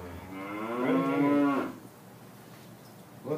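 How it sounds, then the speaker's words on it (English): A single cow gives a long, loud moo that rises and holds for over a second before fading, leaving quiet outdoor background. "we're going to count Tim's cows"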